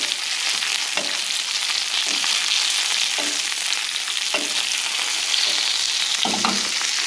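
A steak fries in butter in a hot pan, giving a loud, continuous sizzle with occasional soft knocks and stirring sounds, close up and with no talk.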